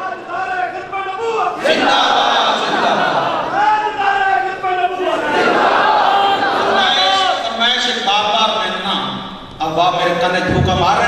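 A large crowd at a religious conference in a mosque chants a slogan in loud unison, answering a leading voice in repeated surging waves.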